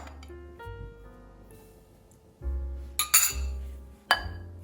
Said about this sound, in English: I'm gonna start mixing it together with my whisk